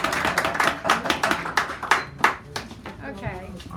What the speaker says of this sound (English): Give her a round of applause as she comes up here